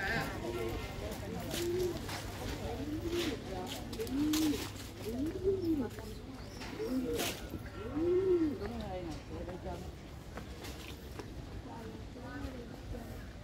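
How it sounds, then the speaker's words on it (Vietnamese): Pigeons perched on the triple-arched gate of Binh Dong communal house in Saigon give soft, repeated coos about every second or two. Faint voices murmur in the background. "Những chú bồ câu đậu trên cổng tam quan."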